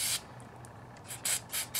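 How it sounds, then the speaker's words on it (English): Carburetor cleaner from an aerosol can hisses onto SU carburetors in several short bursts, one at the start and three close together near the end, near and fairly loud with no talking. "go ahead and get our carb clean out, and we'll just kind of start spraying"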